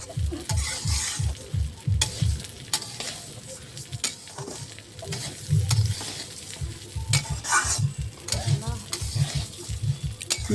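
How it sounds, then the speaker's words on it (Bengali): Rice being stirred in a hot pan, with repeated rhythmic scraping strokes over a low sizzle that continue steadily throughout. "এবার হচ্ছে চাল দিয়ে এগুলো সুন্দর করে নাড়াতে হবে"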